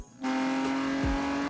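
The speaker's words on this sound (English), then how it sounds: "In the movie Ronin, set in Paris, Jean Reno's character drives a black BMW M5 E34." A black BMW M5 E34 in a Paris car chase from the film Ronin: an engine snaps in abruptly and holds a loud, steady high-revving drone with a brief lower whoosh, then cuts off.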